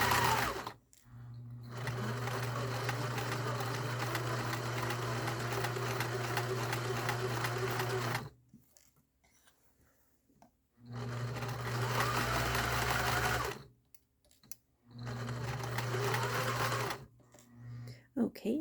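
An old all-metal sewing machine stitching a dart, running in steady humming bursts of rapid stitching separated by short pauses, fairly close and clear with a voice heard between runs.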